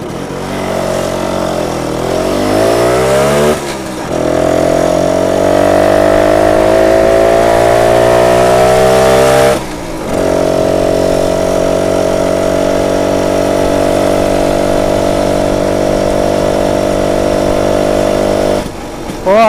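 BSA Bantam 175 classic motorcycle engine running on a test ride, loud and close, revving up and settling into a steady drone with brief dips where the throttle eases off, no talk.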